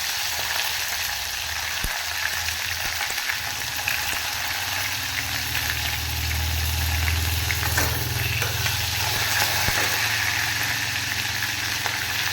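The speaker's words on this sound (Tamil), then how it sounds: "நம்ம வந்து வெங்காயம் போட்டுக்கலாம்." Chopped onions and chillies fry in oil in a pan, giving a steady, dense sizzle close by. The sizzle lasts throughout with a low rumble beneath and a few faint clinks, and no one talks.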